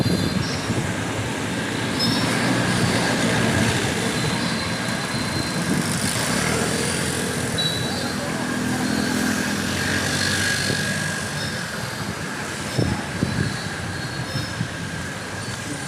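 A metro train rumbles steadily along an elevated track in Nagpur, wheels squealing and clattering, loud and continuous before easing slightly toward the end.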